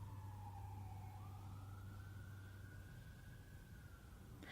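An emergency vehicle siren sounds outside, a faint distant wail rising and falling slowly over a steady low hum.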